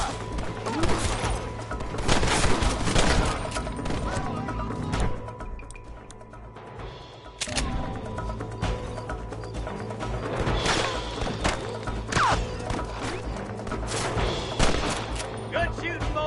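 Gunfire crackles in the Western video game Red Dead Redemption, rapid shots and booming thuds scattered through a dense battle soundscape, with characters speaking between bursts.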